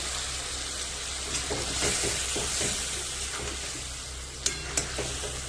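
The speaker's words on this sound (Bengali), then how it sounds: "এখন এটা ভালো করে ভেজে নেব।" A ground paste of green chili, cumin, turmeric and salt fries with potatoes in a pan, a steady close sizzle under stirring, with two sharp clinks of a utensil near the end.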